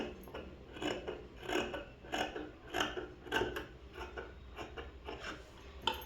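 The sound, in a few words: scissors cutting cloth for a school uniform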